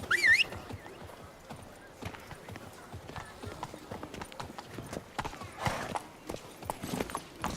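Roach the horse galloping in The Witcher 3: Wild Hunt, rapid rhythmic hoof clip-clops throughout with a brief whinny at the start, close and moderately loud, some game sounds mixed in.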